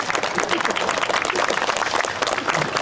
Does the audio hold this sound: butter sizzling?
no